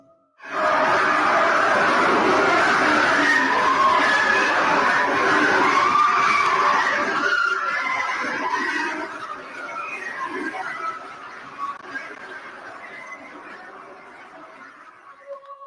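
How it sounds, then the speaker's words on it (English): An alleged recording of screams from a deep borehole: a dense, loud wash of many distant voices shrieking and shouting like a crowd, sustained for about seven seconds and then slowly fading. "allowing the screams of the dead to be heard"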